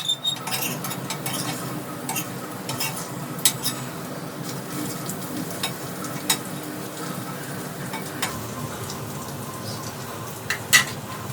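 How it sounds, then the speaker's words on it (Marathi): Eggs fry on a flat iron tava in a low, steady sizzle, broken by scattered sharp clicks and scrapes of a spatula turning them over. "ही आपल्याला थोडी उलटवून घ्यायची आहेत आता."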